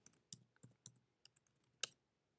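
A computer keyboard gets a handful of soft, close key clicks while a new root password is typed into a Linux terminal, irregular taps with short pauses and no talking.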